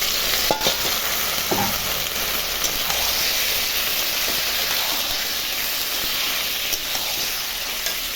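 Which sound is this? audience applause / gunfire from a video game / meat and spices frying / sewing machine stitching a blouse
meat and spices frying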